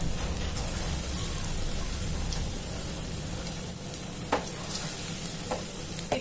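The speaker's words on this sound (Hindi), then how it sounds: "इस तरीके से आप ब्रेड पकोड़े को डालते हो उस तरीके से डाल के इसमें डाल दें और एकदम से इनको ना पलटे, थोड़ा सा रहने दें दो या तीन मिनट कम आंच पे।" Bread pakoras sizzle and crackle steadily in hot oil over a low gas flame, a dense continuous frying hiss with a few sharper pops, no talking.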